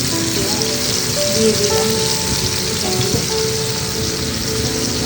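Bottle gourd fries in a frying pan with a dense, steady sizzle like rain on a surface, loud and close, while a voice briefly speaks over it.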